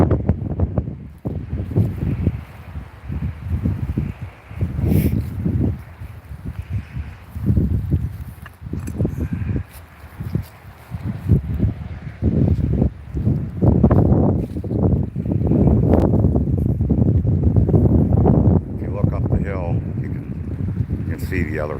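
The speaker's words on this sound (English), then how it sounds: "It's a bit windy and rainy today." Gusty wind on a rainy day buffets the microphone in uneven rumbling bursts, with occasional footsteps and faint voices mixed into the blustery noise.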